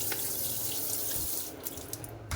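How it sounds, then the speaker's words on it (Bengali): Tap water runs steadily into a kitchen sink while a child's bottle is washed, a close, constant splashing stream that breaks into short spatters near the end. "এখন গিয়ে ছেলের বোতলটা ধুয়ে রাখি"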